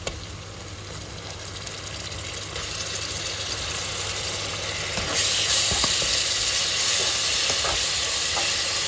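Bay leaf, cinnamon, cardamom and ginger-garlic paste frying in hot oil in a home kitchen, a steady close sizzle that swells louder partway through, with faint stirring scrapes and a constant background hum.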